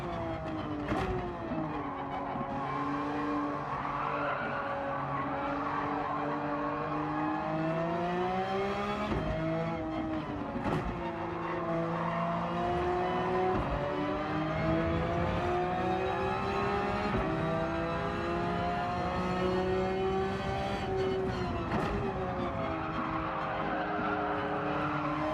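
Race car driven in Gran Turismo 7, a steady loud engine drone rising and falling through gear changes, with tire squeal and skidding layered throughout the whole stretch, no talking.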